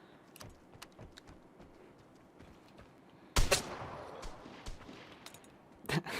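Shotgun blasts in the video game Vigor: two sharp, loud reports a few seconds apart over a quiet bed of clicks and faint rustling, the first trailing off in a brief echo.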